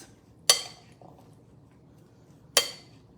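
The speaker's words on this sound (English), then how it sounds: "as you add your ingredients, just keep giving it a nice little mix" A utensil knocks twice against a bowl while bean salad ingredients are mixed, two sharp, bright clinks about two seconds apart, with quiet room tone between them.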